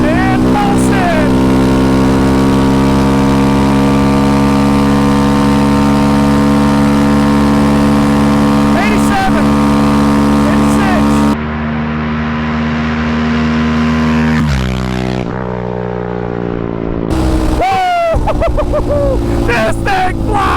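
A Yamaha Raptor 700 ATV engine runs at three-quarter throttle with a steady, loud mid-pitched drone. It dips sharply and pulses partway through, then climbs again. A voice can be heard over it.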